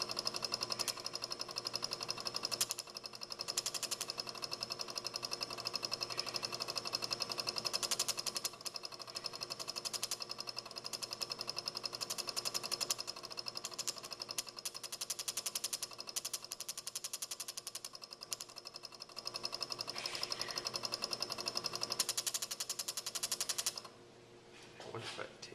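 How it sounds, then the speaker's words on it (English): A relay oscillates to fire an automotive ignition coil without a distributor, giving a loud, rapid buzzing chatter with sparking that runs steadily for about twenty seconds before cutting out. "grab our button here, start oscillating this relay, and check it out. We should get sparking."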